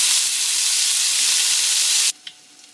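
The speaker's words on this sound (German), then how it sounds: "dann nehmt ihr das raus und packt die Zwiebeln und den Knoblauch in die Pfanne." Onions and garlic sizzle loudly in a hot pan just after pork strips come out, a steady broad frying hiss for about two seconds that cuts off abruptly, leaving faint clinks.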